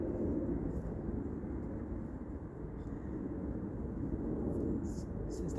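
An airplane passing overhead, a low, steady broadband rumble heard from a distance and fairly faint, with a voice heard briefly over it.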